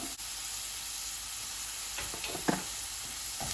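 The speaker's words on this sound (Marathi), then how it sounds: "आतां पेपर आनी कॅरट घालता बरो फ्राय करूया" Peppers and carrots frying in a pan for a garlic scape recipe, a steady soft sizzle with a few brief scraping stirs near the end, heard alone.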